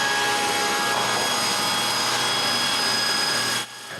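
Power tools in a woodworking shop, a loud steady whine of drilling and cutting plywood that runs continuously and cuts off abruptly near the end, leaving quieter room noise.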